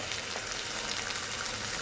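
Pieces of fish fry in a pan in a home kitchen. They give off a constant crackling, hissing sizzle at low-moderate level, with no voices over it.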